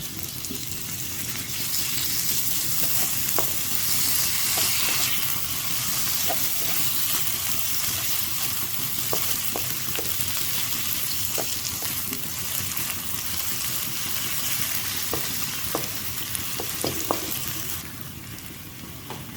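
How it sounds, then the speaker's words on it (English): Ginger, garlic and green chili paste sauté in a hot pan for a black chickpea curry, giving a steady loud sizzle with scattered clicks and scrapes of stirring throughout. "We're gonna add ginger, garlic, and green chili paste. And saute it."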